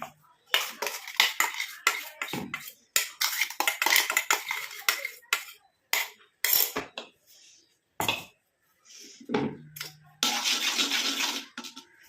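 Metal clinks and clatters as items are tipped into an iron pan, a run of sharp scrapes and knocks, then a longer scraping rattle near the end.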